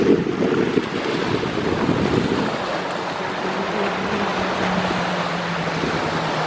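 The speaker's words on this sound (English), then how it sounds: "This is Patong Beach" Wind and surf at Patong Beach in Thailand, a loud continuous roar of wind buffeting the microphone over broad wave wash, with no voices.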